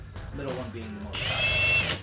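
A power drill boring rivet holes during a Jeep Gladiator JT cold air intake and snorkel install, a short, close whirring burst after some handling clicks and brief talk.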